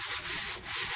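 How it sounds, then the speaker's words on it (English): Sandpaper of 150 grit brushed lightly over a painting canvas gives a steady, soft scratchy rubbing that dips briefly midway, close and alone without talk. "what I want to do now is just take 150 weight sandpaper and just gingerly"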